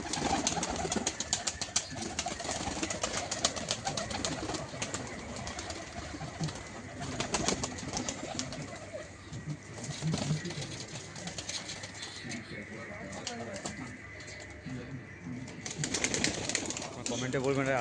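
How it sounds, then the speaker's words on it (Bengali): A flock of pigeons lands at night with soft cooing and bursts of wing flapping, fairly faint, while someone talks throughout. "দেখুন আচ্ছা সব পায়রা নামছে দেখুন।"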